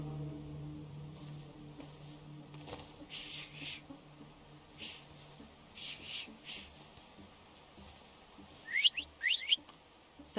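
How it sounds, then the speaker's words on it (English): A character in The Thaumaturge video game gives a short whistle to call the guards, a few sharp rising whistle notes near the end over quiet ambient game sound and soft bird-like chirps. "have you mastered whistling?"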